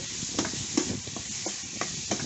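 Pork stir-fried in a hot pan for a holy basil stir-fry, with a steady close sizzle and repeated quick scrapes and tosses of a spatula throughout.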